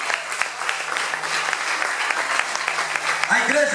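Church congregation applauding throughout a worship service, a steady dense wash of clapping from a large crowd with voices rising over it near the end.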